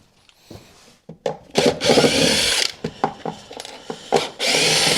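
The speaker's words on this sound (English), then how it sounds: "If I just go and grab my drill." A power drill unscrews screws in short, uneven bursts close up, with clunks and handling noises between, ending in a longer sustained run.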